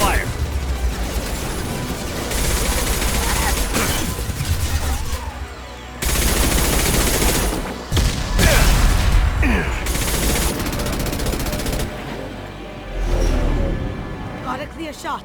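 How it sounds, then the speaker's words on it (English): A dense, continuous exchange of gunfire in a firefight in Mass Effect 2, loud and sustained, with bursts of weapon fire and impacts over a steady rumble and short pauses between waves. "Taking fire."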